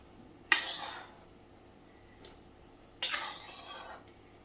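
Two separate clinks of cutlery against dishes as rice and fried pointed gourd are served onto a plate at home, each a short bright scrape that fades, about two and a half seconds apart.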